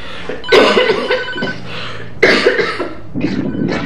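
A person with a cold coughs loudly and close to clear debris from the throat, two harsh hacking bursts followed by a smaller rasping cough.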